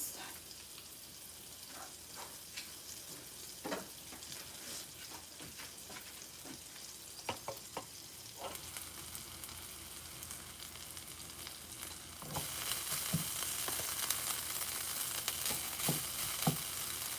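Cooked rice frying in butter in a pan for a Mexican stir-fry, giving a steady close sizzle that grows louder partway through, with occasional soft stirring knocks and no talking.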